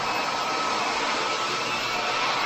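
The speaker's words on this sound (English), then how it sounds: "Going to vacuum all this up, make sure there's no little tiny paint pieces or glue or anything" A vacuum cleaner runs steadily over a freshly finished concrete floor being cleaned of paint flecks and glue bits, a loud continuous broadband whoosh with no pauses and no voices.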